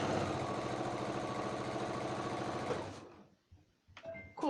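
A sewing machine stitches a quarter-inch seam on a Christmas stocking, whirring steadily and close for about three seconds before stopping, followed by a couple of small handling clicks.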